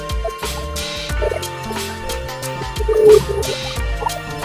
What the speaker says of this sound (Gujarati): હા જો ગાયના મુખમાંથી પાણી આવે